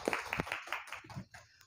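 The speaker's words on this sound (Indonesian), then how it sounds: "terima kasih tepuk tangan untuk Mundari" Scattered clapping for a presenter at a teacher training session, a handful of hands striking in an uneven rhythm, fairly quiet and fading toward the end.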